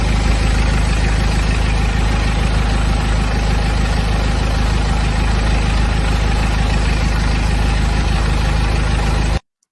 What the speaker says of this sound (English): because it's diesel engine, there is a bit of noise always, but you can see the difference before and after replace chain